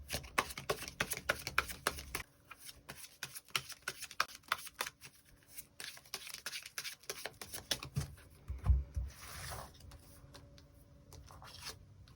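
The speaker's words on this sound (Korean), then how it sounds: "추가 카드 뽑아보도록 하겠습니다" Tarot cards being drawn and handled from a deck, with dense papery shuffling and rubbing that runs steadily and close, then a few louder slaps and sliding strokes near the end, with no voices.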